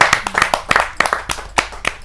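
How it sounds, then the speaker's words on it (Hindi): An audience at a Hindi kavi sammelan poetry gathering claps, with quick, uneven, close handclaps loud and dense for two seconds. "जोरदार ताली के साथ हम उसका स्वागत"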